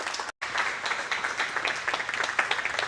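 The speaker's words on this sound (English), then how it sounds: "give a big round of applause" Audience applause following a talk at an Airbnb interview event, a dense, steady clapping that carries on with a brief drop-out early on.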